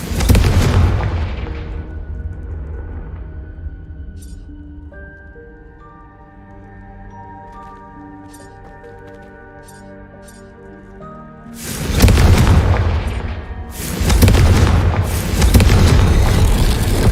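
Fiery Confringo spell blasts in the Hogwarts Legacy video game: a booming explosion at the start, a quieter stretch of tonal game music, then two more loud, close bursts.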